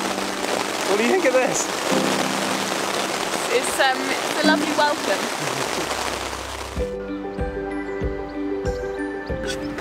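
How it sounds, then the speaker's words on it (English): Heavy rain pours steadily during a hike in the Swiss Alps, a dense, close hiss of drops while a person talks over it, before the sound cuts to something quieter and more tonal near the end. "The rain is unbelievably heavy."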